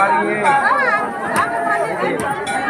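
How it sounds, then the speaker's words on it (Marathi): A large crowd of pilgrims at the Pachmarhi Mahadev fair near Shivratri: steady murmur of many voices close by, with nearby talk layered over the crowd throughout. "गर्दी आज भरपूर प्रमाणात आहे"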